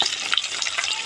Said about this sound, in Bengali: এই যে ইলিশ মাছ ভাজা হইতাছে